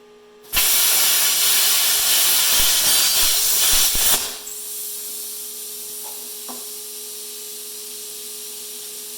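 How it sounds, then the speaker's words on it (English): A plasma cutter slices through a metal piece with a loud, harsh hissing rush for about four seconds, then cuts off abruptly, leaving a quieter background hum and a couple of faint clinks. "I did clean the tip on the plasma cutter this time."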